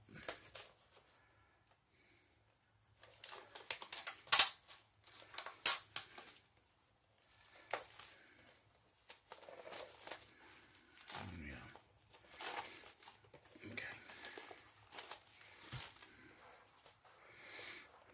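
A Wonder Woman steelbook from fnac is unboxed close up with soft plastic crinkles, light clicks and taps, and scattered handling noises broken by short quiet pauses.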